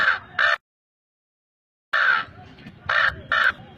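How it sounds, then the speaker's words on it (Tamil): A crow caws in four harsh, clear calls, a close pair followed by a pause and then two more, loud and near with little else around. "அந்த காகம் வந்து கரைகிறது."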